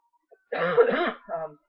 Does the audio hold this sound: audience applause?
no